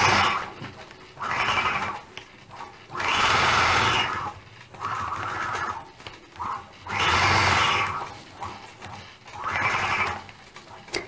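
A sewing machine quilting fabric runs in repeated bursts of rapid stitching, each lasting a second or so, separated by short pauses, fairly close and with no talking.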